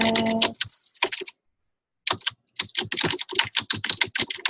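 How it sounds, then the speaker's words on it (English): Fingers type quickly on a computer keyboard at close range, giving sharp clacking bursts, then a pause of about a second before the rapid keystrokes resume. "Hold on, I'm typing my stuff in."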